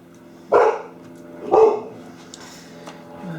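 Two loud dog barks about a second apart, with a steady low hum in the background and a quieter sound trailing off at the end.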